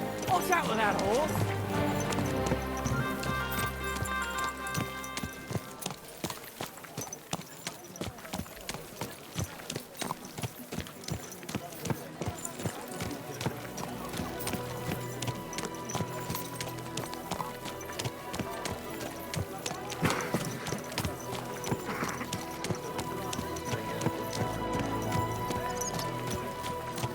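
Horse hooves clip-clop steadily over a continuous bed of Kingdom Come: Deliverance II game music and ambience, with the occasional whinny.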